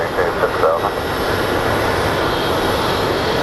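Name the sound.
jet airplane engines at Phoenix Sky Harbor airport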